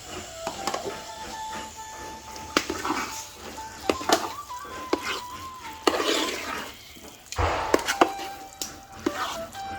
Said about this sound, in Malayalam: അത് കുറേശ്ശെ ചേർത്ത് നേരത്തെ ചെയ്ത പോലെ തന്നെ ഇളക്കി ഇളക്കി യോജിപ്പിച്ചുകൊണ്ടിരിക്കുക